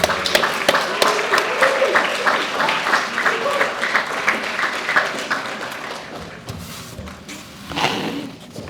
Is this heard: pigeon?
no